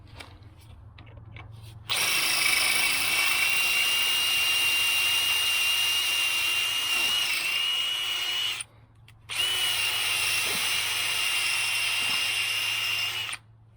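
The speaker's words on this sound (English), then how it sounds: "make sure that the head of that screw is drilled" Power drill boring out a screw head on a Honda brake rotor, a loud steady high whine running for several seconds, a brief pause, then a second sustained run before stopping.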